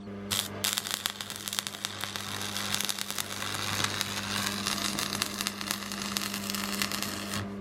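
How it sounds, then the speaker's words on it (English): Arc welding on a beginner's first attempt, a dense continuous crackle and sizzle with irregular sharp pops, steady and close over a low electrical hum throughout. "So I'm gonna give my first welding attempt a go right now"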